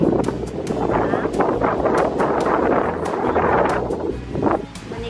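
Gusty sea wind on the beach at Temajo Island buffets the microphone in rough, uneven bursts, with a broad rushing roar and occasional sharp gust peaks.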